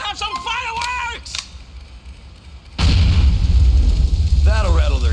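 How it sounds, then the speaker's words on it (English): In GTA IV: The Lost and Damned, a grenade launcher fires and a heavy, booming explosion erupts, loud and sustained, after a stretch of in-game voices and quieter ambience. "It's a grenade launcher."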